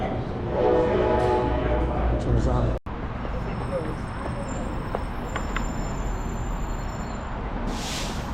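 Coaster commuter train at Old Town San Diego station: a loud rumbling, droning train with a sudden cutoff partway, then continued rail and platform noise with faint high tones, while people talk nearby.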